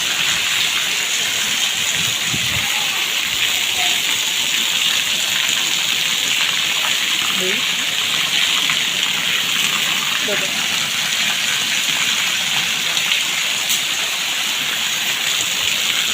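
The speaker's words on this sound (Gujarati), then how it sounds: "ખૂબ જ સારો એવો વરસાદ પડ્યો છે" Heavy rain pours down in Kankrej taluka, Banaskantha, Gujarat, in a continuous, even roar, with faint voices now and then beneath it.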